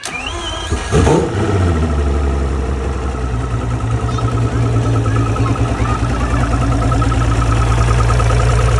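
A Mercury Optimax outboard boat engine cranks and catches, then settles into a loud, steady running drone with a low throbbing hum, close by, no talking.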